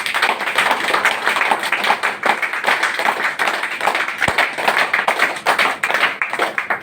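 A crowd clapping loudly and steadily in sustained, dense applause that stays at an even level throughout, with no voices heard.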